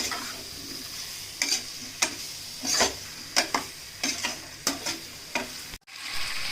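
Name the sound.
chicken frying in a pan with masala and salt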